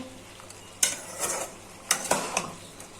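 New potatoes fry in a pan for crispy aloo bhaji, a low sizzle running underneath while a metal utensil scrapes and clanks against the pan in a few sharp, separate stirring strokes.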